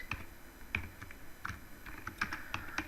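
Code is typed on a computer keyboard during a Git and GitHub tutorial, irregular quick key clicks in short bursts, close and fairly quiet with no talking.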